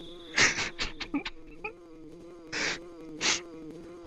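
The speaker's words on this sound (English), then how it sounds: "Do you hear that sound like a bee flying around?" Buzzing bee from the video game Earthbound, several short rising and falling buzzes in a quick cluster followed by two longer drones, clear and close over a soft background hum.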